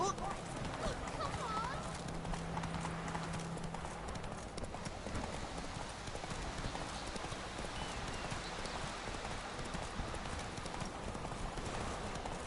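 A horse gallops across the ground in The Witcher 3: Wild Hunt, its hooves making a steady, busy clip-clop that carries on throughout under background noise, and a voice speaks over it.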